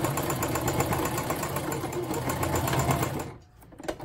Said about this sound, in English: Now that I'm in my corner, I'm going to back stitch